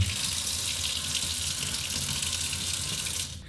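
Water gushing steadily from a kitchen tap fitted with a gadget, a loud, continuous hiss and splash that cuts off near the end.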